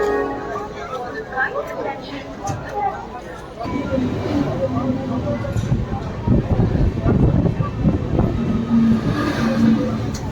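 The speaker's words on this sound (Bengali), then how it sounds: "ট্রেন এই ছেড়েও দিল।" The Howrah–Radhikapur Kulik Express with LHB coaches pulls away from a station platform, a low rumbling hum building steadily from inside the carriage, with faint passenger chatter mixed in.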